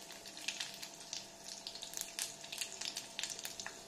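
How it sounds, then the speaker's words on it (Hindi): Sliced long thin garlic crackles in hot oil for a peanut curry, a dense, steady sizzle with bright spitting pops throughout, close and fairly loud with no voices. "इसको तड़कने देंगे। फिर इसमें लहसुन डालेंगे"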